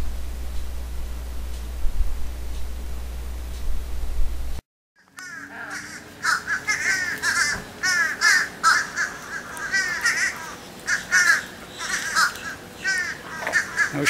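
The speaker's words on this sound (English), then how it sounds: "No shortage of birds around here." Harsh, repeated cawing of crows in irregular bursts, fairly close and loud, following a short stretch of low rumbling noise and a brief silence.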